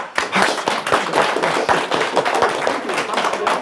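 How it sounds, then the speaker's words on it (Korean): A small audience at a church outreach gathering on Yeonhwado island claps together, with dense, irregular hand claps close by that keep going throughout. "박수."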